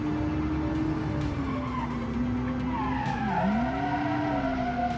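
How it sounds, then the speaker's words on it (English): Hatchback tires skidding through a handbrake turn on a racing game track, a loud continuous squeal that rises and bends in pitch over a steady engine drone. "Using handbrake to take the turn."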